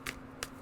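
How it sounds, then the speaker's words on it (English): Two quick riffling bursts of tarot cards being shuffled close by, separated by a short pause, with no voices. "So shuffle this again."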